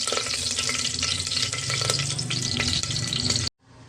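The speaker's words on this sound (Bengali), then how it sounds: "এবারে আমি এর মধ্যে গোটা গরম মশলা অ্যাড করলাম।" Whole garam masala crackles and fries in hot oil for mutton curry, a dense close sizzle with sharp pops and stirring scrapes that stops abruptly just before the end.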